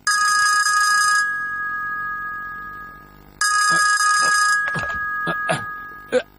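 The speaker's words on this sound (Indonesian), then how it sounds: "Telepon itu pasti Jaiko yang menelpon." A telephone in a Doraemon cartoon rings in two long, loud electronic bursts separated by a pause, followed by a few short clicks and thumps.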